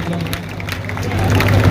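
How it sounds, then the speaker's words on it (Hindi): Steady applause from an audience at a school award ceremony for students who passed their exams, with brisk claps building slightly toward the end over a low hum and some talk. "तो एक बार जोरदार तालियां आप सबके लिए"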